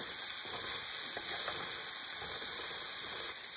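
Potatoes frying in a pan, a dense continuous sizzle with faint scraping as they are stirred now and then, close and steady throughout.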